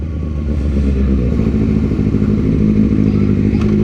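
A motorcycle rides along a city sidewalk, its steady engine drone loud and close for several seconds with some clattering, and no voices.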